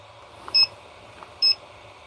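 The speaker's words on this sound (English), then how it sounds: "the beeps are kind of obnoxious" Two short, high electronic beeps about a second apart from soldering equipment while desoldering capacitors on a Game Gear board, sharp and clear over faint low background hum.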